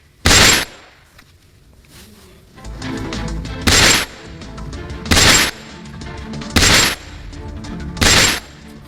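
Gunfire from a ship by Somali pirates at a navy helicopter rings out as five sharp, loud cracks spaced about one to two seconds apart over a steady background rumble.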